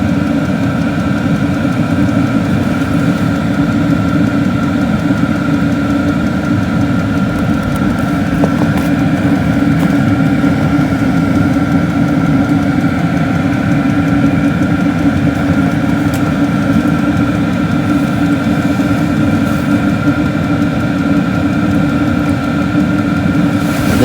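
A portable heater fitted with a modified exhaust and air intake runs on its high setting, giving a loud, steady, unbroken drone with a constant whine and no voices.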